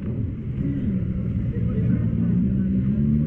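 An MV Agusta Rosso inline-three motorcycle engine rumbles steadily at low pitch, a continuous throaty drone with slight swells, close by.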